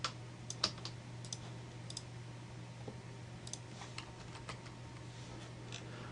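Computer keyboard keys, the arrow keys, are tapped in short irregular clicks at a desk during Photoshop banner editing, soft and close over a steady electrical hum, with no talking.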